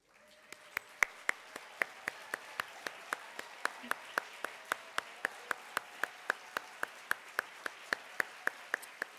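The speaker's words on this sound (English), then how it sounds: "stand and face the audience for a round of" An audience applauds the finalists at the 2022 National Book Awards finalist reading, with one nearby pair of hands clapping in a steady, even rhythm over a softer wash of crowd clapping for about nine seconds, with no voices.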